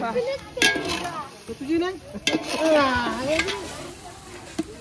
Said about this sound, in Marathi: कांदा फ्राय होता आपला